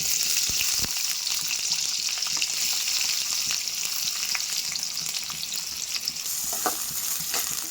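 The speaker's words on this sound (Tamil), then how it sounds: "எண்ணெய் சூடாயிடுச்சுங்க. வெங்காயம் போட்டுக்கலாம்." Onions dropped into hot oil in a kadai, sizzling loudly and steadily with scattered pops and the scrape of stirring throughout, close up and without talk.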